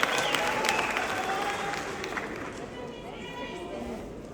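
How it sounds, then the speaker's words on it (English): A crowd at a Democratic Alliance rally applauds, with a sustained wash of clapping that slowly fades, while a voice carries over it. "she deserves a round of applause for that"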